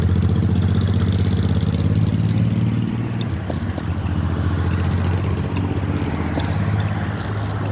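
Motorcycle engine running steadily nearby, a dense low rumble that holds even throughout with slight fluctuations and faint ambient noise on top.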